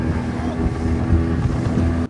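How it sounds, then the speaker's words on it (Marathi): Speedboat ride on water near Pune, with a loud steady engine drone and rushing wind buffeting the microphone throughout, close and continuous with no talk. "त्यामुळे आता आपण फक्त स्पीड बोट करतो."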